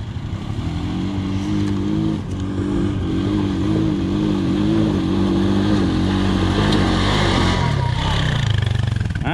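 An ice breaker vehicle's engine drones loudly and steadily, its pitch rising and wavering as the throttle opens up, close by, with a faint voice in the mix.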